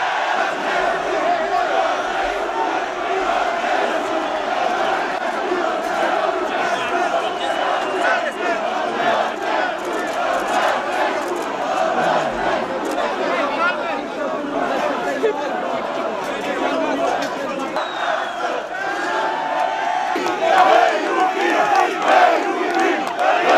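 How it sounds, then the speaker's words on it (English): A large crowd at a political release event erupts in loud, sustained cheering and shouting, a dense roar of many voices that holds steady throughout and swells slightly near the end. "When he was released, the crowd erupted in excitement."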